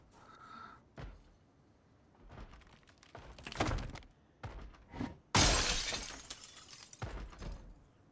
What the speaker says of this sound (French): voir si le bruit de la verre cassée, de la vitre cassée n'a pas attiré de zombies.